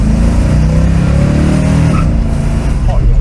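A loud Ford Mustang Mach 1 engine rumbles and revs continuously at close range, deep and throaty, with some interior noise and a voice faintly in the mix.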